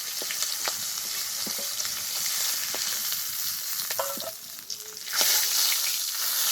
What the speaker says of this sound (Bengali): মাছের মাথাগুলো খুব ভালোভাবে ভেজে নিয়েছি